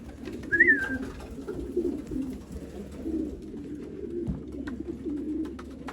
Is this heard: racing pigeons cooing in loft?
yes